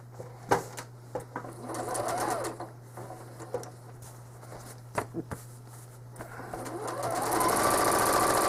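A home sewing machine hums steadily while machine quilting a cherries quilt, its motor running through much of the clip with brief pauses and small handling knocks, loudest toward the end.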